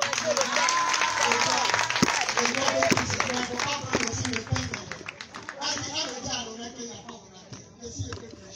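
Church congregation at a revival gathering in Cocody applauding and cheering, a dense crowd roar of clapping and voices, loud at first and gradually thinning.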